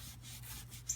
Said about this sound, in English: So just keep on rubbing it so you don't have any streakiness.